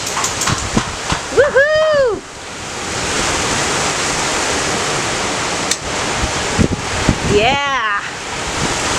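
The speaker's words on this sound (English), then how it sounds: "That's a gully washer. Look at all that rain." Heavy rain downpour, a dense steady hiss of pouring water heard close, with excited voices cheering and whooping over it.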